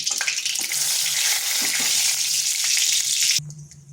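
Whole bay leaf, cinnamon pieces and cardamom pods temper in hot oil for a potato and pointed gourd curry, a loud, continuous bright sizzle with a few stirring scrapes, dropping off sharply near the end.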